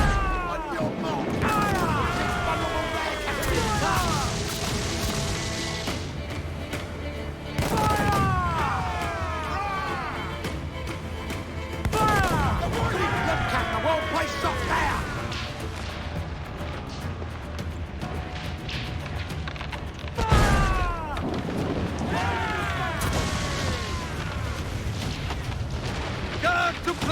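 Ship cannon fire in Assassin's Creed: Black Flag: heavy booming volleys repeat every few seconds amid a loud naval battle, with crew voices shouting orders over the din.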